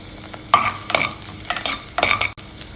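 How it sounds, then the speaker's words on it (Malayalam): Three small sliced shallots frying in hot ghee for Malabar semolina kanji, a steady crackling sizzle broken by several scraping stirs, close and fairly loud, with no voices. "നെയ്യ് ചൂടായതിനു ശേഷം ഇതിലേക്ക് ഞാൻ 3 ചെറിയ ഉള്ളി ചെറുതായി മുറിച്ചെടുത്തത് ഇട്ട് കൊടുക്കുന്നുണ്ട്"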